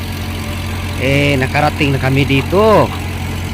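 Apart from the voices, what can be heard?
old boat's engine running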